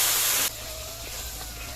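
A splash of water hits turmeric, red chilli, coriander and cumin powders frying in a pan, giving a loud, sharp burst of hiss that drops after half a second into a quieter, steady sizzle, with no talking.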